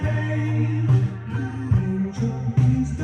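Sustained synth chords from a track, treated with chorus and phaser effects, give a wavering, warbly tone that shifts with each chord change at moderate loudness.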